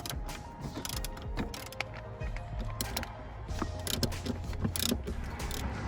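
Ratchet clicking in repeated bursts while the bolts holding a car seat are loosened and taken out, with metallic ticks and knocks close up and no talk.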